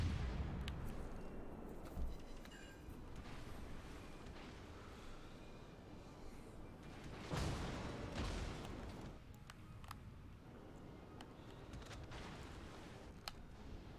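Naval artillery fire in the World of Warships: Legends video game, a few heavy booming salvos with rumbling decay over a low battle background, moderately loud and distant.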